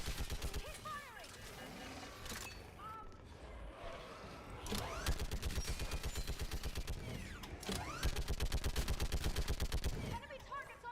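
Rapid automatic gunfire from a firefight in the video game Mass Effect Legendary Edition, dense bursts of shots rattling continuously over mechanical clanks and game music, with a voice speaking at times.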